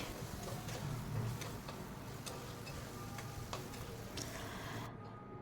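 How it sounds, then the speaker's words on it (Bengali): Potato pieces frying in a pan with salt and turmeric, a soft continuous sizzle with faint ticks and clicks, quiet and steady with no talking. "আলুটাকে মিনিট চার পাঁচ সময় ধরে আমি একটু ফ্রাই করে নিচ্ছি"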